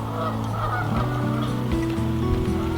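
Hooded merganser ducks calling during a courtship display, a busy run of low, honking, goose-like notes that overlap one another and keep going without a break, close and fairly loud, with no talking.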